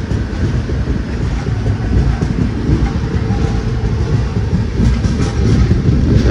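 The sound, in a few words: moving passenger train departing a station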